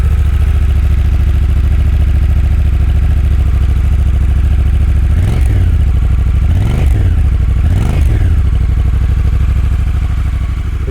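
A new Honda motorcycle engine idles steadily and close by, still burning off its oils, with three quick revs in a row partway through before settling back to a rumbling idle.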